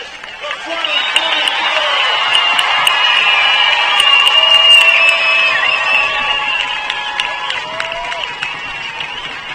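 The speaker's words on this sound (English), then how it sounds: "How about a round of applause for the class of 2024?" A crowd at the Roy C. Ketcham Senior High School class of 2024 graduation claps and cheers for several seconds. A sustained tone and voices sit over the dense applause.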